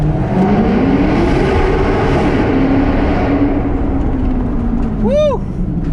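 A Maserati GranTurismo S revs hard inside a parking garage, the exhaust rising and falling in one long loud pull with echoing reverberation and a brief high squeal near the end.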